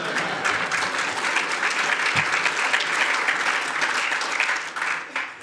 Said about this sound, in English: That's an applause line, by the way